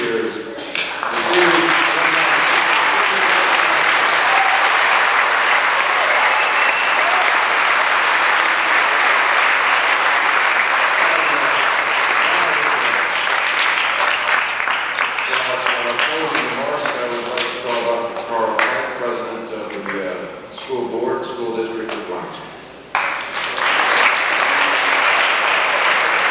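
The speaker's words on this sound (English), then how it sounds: "give a round of applause to this year's" An audience at a 1997 high school distinguished alumni awards ceremony gives sustained applause, a dense, loud clapping roar lasting many seconds with brief dips and some voices mixed in.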